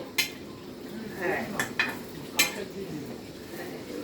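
A sweet milk patisapta pancake is flipped in a pan, bringing light clinks and scrapes of a utensil against metal over a faint sizzle, with a few sharp taps spaced through it.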